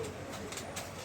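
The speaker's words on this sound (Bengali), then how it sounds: "এখানে কিছু কবুতর আছে, সুপার কোয়ালিটির কিছু কবুতর আছে" Pigeons of a high-quality breed coo softly in a loft, a low murmuring that runs steadily through the short moment with no talking.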